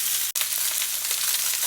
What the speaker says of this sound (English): So I'm going to sear them in each side, all over, to make sure I get the caramelization.